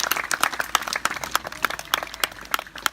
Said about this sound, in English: I want to give Magra a round of applause as well.